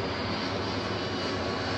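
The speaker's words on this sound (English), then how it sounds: "All right, we'll let this plane pass us." An airplane flies overhead at Woodmere Dock, its engine making a loud, steady, unbroken roar throughout.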